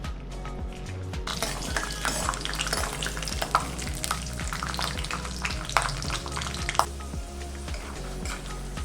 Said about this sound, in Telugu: ఆయిల్ కాగిన తర్వాత ఇందులోకి పల్లీలు వేసుకొని వేయించుకోవాలి